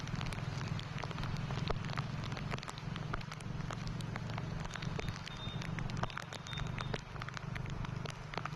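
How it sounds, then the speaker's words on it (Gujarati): Light rain falls steadily over Bhavnagar city in the early morning, a dense even patter with scattered sharper drip ticks, continuous and fairly soft with no voices. "વહેલી સવારથી જ શહેરમાં હળવો વરસાદ વરસવો શરૂ થયો હતો"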